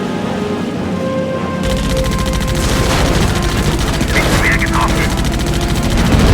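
Rapid gunfire rattles in a dense, loud burst of repeated shots in a war game, starting abruptly and continuing steadily, with voices speaking over it.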